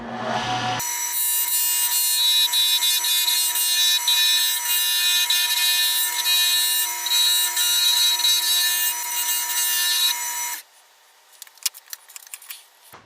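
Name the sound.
roughing gouge turning Alumilite and koa pen blank on lathe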